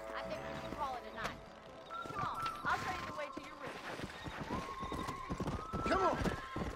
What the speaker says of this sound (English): Better get on my horse.